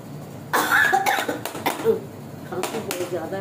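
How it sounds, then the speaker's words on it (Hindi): Repeated coughing fits from a person cooking spinach and tomatoes in a home kitchen, several harsh bursts close to the mic with short pauses between them, fairly loud and unaccompanied by talk. "खांसी बहुत ज़्यादा"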